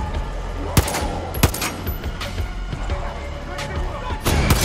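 Single gunshots from Far Cry 6 firing standard rounds, a few sharp separate cracks over a steady bed of game ambience and music.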